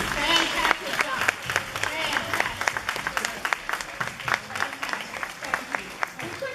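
A crowd at a community gathering about homelessness keeps clapping, a busy, even patter of hands that carries on with a voice cutting in over it now and then.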